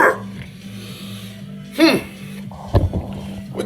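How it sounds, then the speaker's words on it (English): Several dogs bark, yip and whimper in the background of a home kitchen during breakfast cooking, with short sharp barks rising above a steady hum and someone talking over them. "I got dogs in the background trying to tell me how to do my job."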